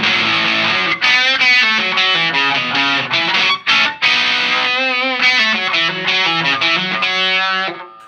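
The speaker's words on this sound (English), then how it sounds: "Kind of got an overdrive sound to it" Electric guitar played through a Bixonic Expandora overdrive pedal, a loud, warm driven tone with a run of picked notes and chords, briefly cutting out twice before ringing on and fading at the end.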